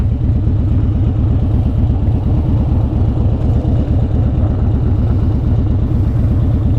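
A 2013 Harley-Davidson Dyna Wide Glide rumbles along under way, its V-twin loping with a rapid, loud, close-up beat that stays steady from start to finish, with no talking over it.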